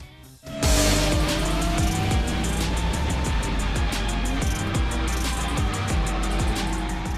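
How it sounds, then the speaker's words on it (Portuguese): A drift car skids through corners at a motorsport event, its engine revving hard and its rear tires squealing in long repeated slides. The sound is loud and close and starts abruptly just after the opening. "O objetivo é fazer os pneus traseiros dos carros derraparem nas curvas"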